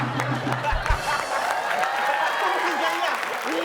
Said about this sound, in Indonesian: Kalau kalian tepuk tangan berarti setuju dengan dia.